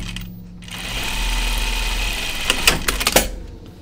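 A sewing machine stitches a jacket seam, restarting after a stitch-length adjustment, with a steady motor hum that builds and then a few sharp clicks and taps near the end.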